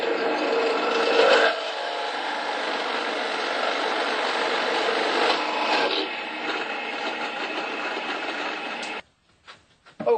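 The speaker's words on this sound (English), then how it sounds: "We'll drill just short on one side" A steady, continuous whine of a power drill boring into a wooden birdhouse part for several seconds, then cutting off, followed by a couple of brief knocks.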